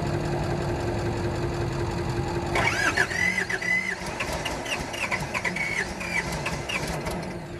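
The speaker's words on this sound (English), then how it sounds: "a 543 Bobcat with a 2-cylinder Isuzu diesel engine. And the symptoms that this engine is experiencing is a hard cold start" Bobcat 543 skid steer with a two-cylinder Isuzu diesel struggling through a hard cold start: quiet at first, then a sudden burst of rough, uneven knocking and whining that carries on to the end.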